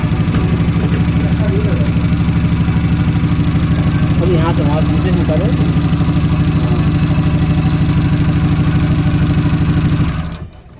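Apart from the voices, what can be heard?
Chevrolet Spark engine idling while misfiring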